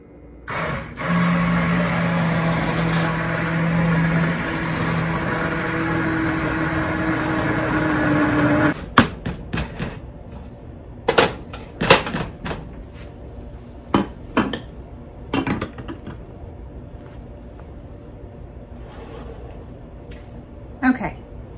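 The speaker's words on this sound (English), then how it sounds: "So I'm gonna immersion blend for a few minutes and try to get all of this pretty much chopped up." An immersion blender whirs steadily for several seconds through a hot pepper sauce made with lemon drop and serrano peppers, then stops, leaving scattered clinks and knocks of utensils and dishes.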